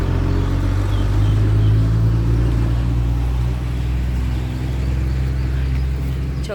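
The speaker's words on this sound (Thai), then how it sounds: "ก็เลยมีรถบรรทุกวิ่งผ่านนะคะ ฝุ่นนี้ให้ฟุ้งกระจายเลย" A truck drives past on a dusty rural road beside an irrigation canal in Thailand, a loud, close, low engine rumble sustained throughout with slight rises and falls, no voices.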